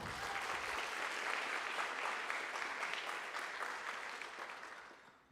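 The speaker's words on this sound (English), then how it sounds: "Please give our cum laude students another round of applause." Audience applause for cum laude students at a high school honors night, a sustained round of clapping from a large crowd that tapers off toward the end.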